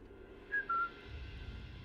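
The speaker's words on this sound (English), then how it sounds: "I'm trying to whistle here" A character in Sniper Elite 5 gives a short two-note whistle to lure an enemy soldier, quiet and brief against faint game ambience.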